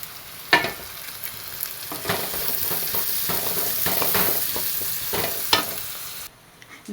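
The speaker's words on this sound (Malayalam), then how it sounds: "ഇതിലോട്ട് ഒരു ഇരുപതോളം ചെറിയുള്ളി കട്ട് ചെയ്ത് കൊടുക്കാം" Chopped small onions, about twenty of them, frying and being stirred in a pan for a meatless biryani; steady close sizzle with scraping stir strokes throughout, no talk.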